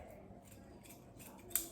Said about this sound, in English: So all you're going to need to do is trim a piece of material off.